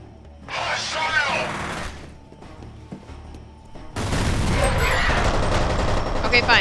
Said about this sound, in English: So it is a submachine gun that I'm using. It's a burst fire.